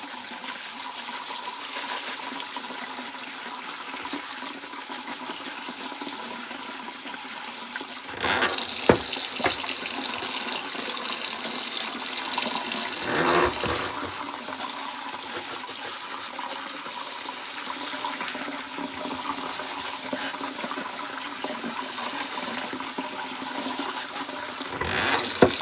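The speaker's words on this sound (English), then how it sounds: "I'm gonna rinse off the corn and the green beans." Tap water running over corn and green beans in a sink, a steady rush that jumps louder partway through as the stream hits the vegetables, then settles into a constant splashing flow.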